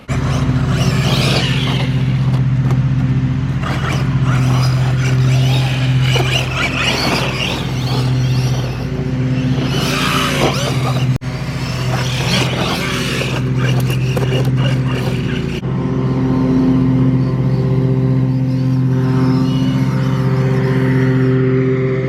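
A Losi Hammer Rey RC truck drives around, its electric motor whining and surging in continuous bursts with rough terrain noise, loud and close throughout.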